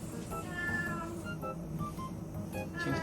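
A cat meows over and over indoors in a home being emptied for a move, the calls fairly close and persistent against a low room hum, with no talking.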